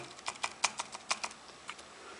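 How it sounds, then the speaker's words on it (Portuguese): A soft keyboard for an iPhone clicks under steady typing, a quick run of about a dozen light taps close by, with no talking. "O teclado é bem macio de digitar."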